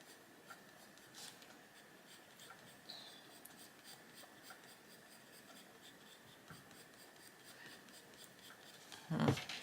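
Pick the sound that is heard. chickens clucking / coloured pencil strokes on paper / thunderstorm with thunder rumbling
coloured pencil strokes on paper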